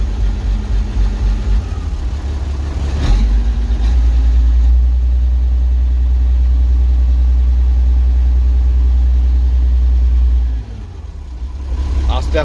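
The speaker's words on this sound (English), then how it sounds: "That's definitely a 6-cylinder Perkins" A six-cylinder Perkins diesel tractor engine idles steadily at a farm sale, a loud low rumble with a slight exhaust leak ticking on the side; a brief rev near the start, and people talk over it.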